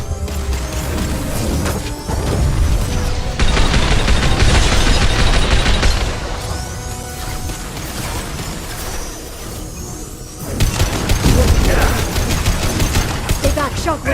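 Combat gunfire in Mass Effect 2, dense bursts of rapid shots and crashing impacts that swell and fade in waves over the whole stretch, loud and close, with brief in-game voices between volleys.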